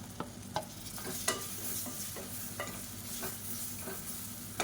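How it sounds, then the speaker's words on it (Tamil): Masala and tomatoes sizzle steadily in oil in a pan while a spoon stirs and scrapes at intervals, with occasional sharp taps; no voices. "இப்போ இந்த மசாலாவை எண்ணெயில் லேசாக வதக்கி விட்டுட்டு ரொம்ப கருக விட்டுறக்கூடாது."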